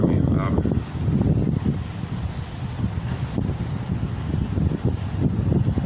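Gusty wind outdoors buffets the microphone with low, rumbling roars that swell and ease, loud and close throughout, while a person keeps talking underneath.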